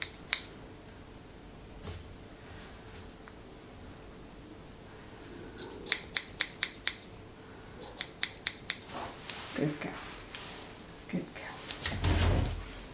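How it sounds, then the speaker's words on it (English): Scissors trimming a Schnoodle dog's curly coat during grooming, quick rapid clusters of crisp snips near the ear with quiet pauses between, a voice talking softly at times. "It's just so that I can cut the hair and not worry about her moving."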